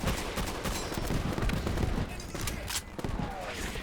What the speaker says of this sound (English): the Garand makes the most satisfying ping you've ever heard